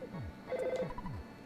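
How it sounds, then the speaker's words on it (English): A telephone rings in the video game Earthbound, a repeating electronic bell-like tone that sounds a few times over a steady background of game music. "Oh, of course the phone rings."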